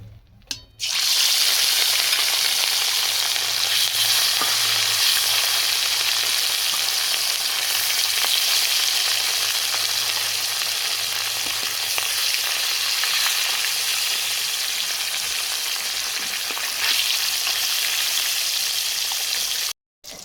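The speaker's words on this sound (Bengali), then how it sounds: "কড়াতে সর্ষের তেল দিয়ে দিচ্ছি মাছ ভাজবো" Fish fries in mustard oil in a wok with a loud, steady, close hiss that runs unbroken for about twenty seconds and cuts off sharply at the end, with no talking.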